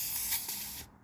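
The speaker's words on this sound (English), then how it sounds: "I'm just gonna degas this" Compressed air hisses sharply out of an HPA tank as it is degassed in an enclosed back patio, one loud continuous burst lasting under a second before stopping abruptly.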